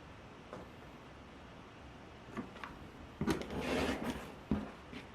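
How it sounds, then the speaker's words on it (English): Fabric being cut along a diagonal line while making quilting half-square triangles, heard as quiet scattered rasps and rubs that swell into a louder, scratchy stretch near the end. "Cut this in half, 2 7/8 on this one."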